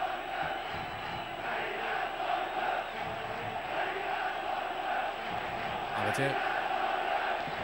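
A football stadium crowd in Iran roars and chants after Saipa's second goal against Tractor, a dense, far-off wall of voices that holds steady throughout.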